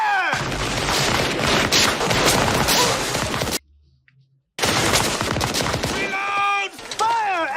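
Musket volleys in the Civil War film Glory: dense crackling gunfire and crashing blasts fill the scene, break off into near silence for a moment, then resume with more shots and shouting voices.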